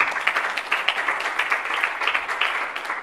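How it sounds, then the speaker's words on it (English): Audience applause at an Africa on Parade comedy show, dense steady clapping from a crowd filling the whole stretch, close and continuous. "Wamilele, let's give him a round of applause"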